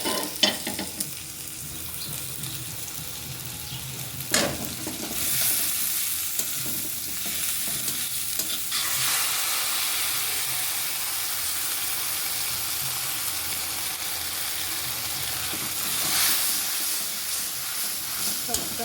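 Cashew, coconut and mustard paste sizzles and fries in a pan with onion and chilli, a steady hiss broken by scraping stirs, close and continuous, with faint talk at times.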